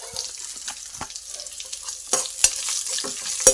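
Onions frying in oil for a homestyle Udupi hotel-style sambar, a steady sizzle with scraping stirs and a few sharper clinks of the spoon against the pan, close and fairly loud, no talking.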